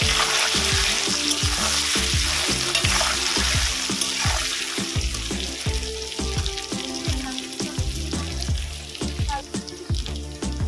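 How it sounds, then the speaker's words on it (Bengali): Gathi kochu taro pieces fry in a pan with a constant hissing sizzle, punctuated by a rapid, repeated rhythm of utensil scrapes and clanks as they are stirred. "ভালো করে ভেজে নেব।"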